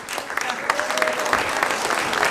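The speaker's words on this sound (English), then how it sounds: "Just a round of applause for everybody" A community meeting audience on Waiheke applauds, steady close clapping for a couple of seconds with a few louder claps standing out.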